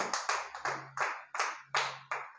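A live audience claps in bursts at a gospel sermon, about seven loud rhythmic waves of applause with no talk over them.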